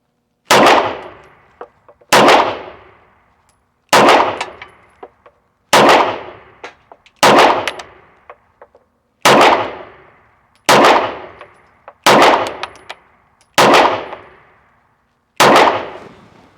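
Ten sharp shots from a Bul SAS II TAC pistol, each followed at once by a ringing clang off a steel target, evenly spaced about two seconds apart, loud and close.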